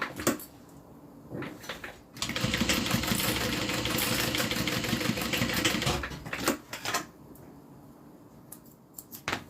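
A sewing machine runs in a burst of rapid, even stitching for several seconds while sewing a zip-around wallet, with a few short clicks and pauses before and after.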